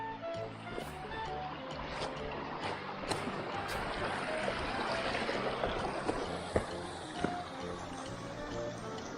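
A small, clean mountain stream flows beside a farm, giving a steady, faint rushing and trickling of water with no break.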